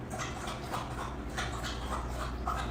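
A dog whimpers and pants in quick repeated bursts, close and fairly loud over a low steady background hum, with no talking.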